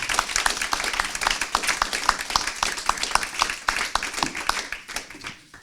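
A French audience applauds a guest at the close of a public talk with lawyer Éric Dupond-Moretti. Crisp, lively clapping builds quickly, holds steady, then thins out and fades near the end.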